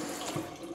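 Tap water runs steadily into a kitchen sink while dishes are washed, a close, continuous splashing rush with no talk.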